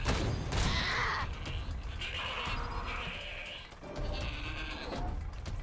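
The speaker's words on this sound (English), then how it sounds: "He's gonna take a shot at this already heavily injured mountain goat." Several drawn-out bleats come from an injured mountain goat in the game Wasteland 3, loud and near, with a brief gap before a final wavering call.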